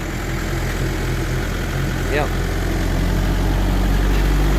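A 1977 Chevrolet truck's diesel engine idles with a steady low rumble and a faint whine, rising slightly near the end, under a brief spoken word.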